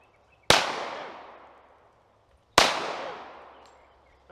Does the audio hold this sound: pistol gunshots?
yes